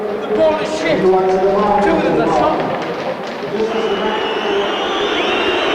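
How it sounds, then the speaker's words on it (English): A crowd of 51,000 at a football stadium roars in a broad, sustained wash of noise, with someone talking over it. "Just listen to the crowd"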